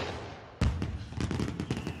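A box of fireworks in a movie scene goes off suddenly after a quiet stretch, a loud burst followed by a rapid, irregular string of crackling pops and bangs.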